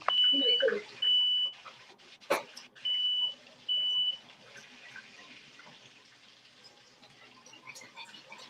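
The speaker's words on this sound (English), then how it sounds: "But the smoke detector will go off because like the little bit of like smoke" A high electronic smoke detector alarm, set off by a little cooking smoke, beeps in four sustained bursts, loud and near, with faint water running and kitchen clatter around it.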